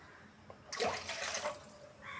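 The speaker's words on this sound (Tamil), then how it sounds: "ஒரு கிளாஸ் தண்ணி ஊற்றிக்கணும்" A glass of water pours into a pan while making rava kesari, a short splashing stream for about a second, then a brief trickle before a faint clink.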